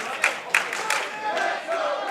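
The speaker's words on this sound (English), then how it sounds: "Crowd trying to rally behind Ricky Starks." Wrestling crowd at a live pro match cheering and shouting to rally behind Ricky Starks, a dense roar with sharp bursts of yells and claps.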